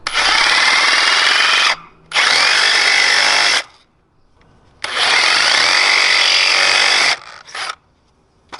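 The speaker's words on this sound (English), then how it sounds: "And now, sawzall to get this outer race." A reciprocating saw cuts out a wheel bearing outer race from the rear suspension arm of a Mazda RX-7 FC during a rear end swap. It makes loud, harsh buzzing bursts: two long cuts and two shorter ones, separated by brief pauses.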